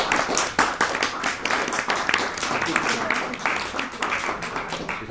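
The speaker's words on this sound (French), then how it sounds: "Juste, oui, applaudissez." Audience applause at a live talk event, with broad clapping noise filling the clip steadily alongside voices talking over it.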